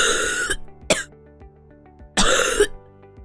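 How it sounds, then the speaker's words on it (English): Two wet, phlegmy coughs with a brief throaty catch between them, close and clear over a faint background hum. "A wet cough, also called a productive cough or expectorant cough, is a cough that typically brings up mucus."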